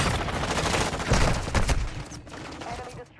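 Rapid automatic gunfire crackles in a video game firefight, loud, dense bursts over about three seconds that thin out near the end, mixed with game noise.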